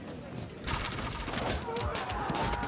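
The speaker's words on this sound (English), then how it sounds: "Alright, so here I'll just stand and shoot." Units in Field of Glory 2 loose a ranged volley during a Belisarius campaign battle. After a brief quieter lead-in, a dense crackling fusillade of many overlapping shots breaks out and sustains, with a voice speaking faintly underneath.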